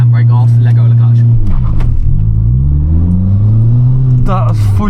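A Fiat 500 with a 1.2 engine revs hard and loud at close range while held for a clutch launch, the engine note dropping and then climbing again as the clutch bites, with people talking over it.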